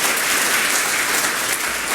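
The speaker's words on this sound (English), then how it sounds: "You're clapping already." Dense, loud applause from a conference audience interrupting a speech, a continuous wash of clapping lasting a couple of seconds with no voices over it.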